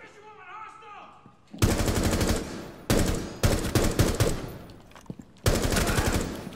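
Loud automatic gunfire in the tactical shooter Rainbow Six Siege, several sharp rapid bursts separated by brief pauses, close and dominant after a quieter opening.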